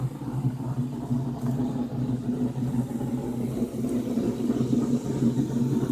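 White Lightning, a car, idles with a steady low engine rumble and faint revving, close and continuous throughout with no voices over it.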